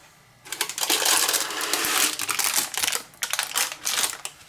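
Baking paper holding no-yeast bread is lifted out of a Ninja air fryer with loud, close crinkling and rustling in several bursts, pausing briefly between handlings.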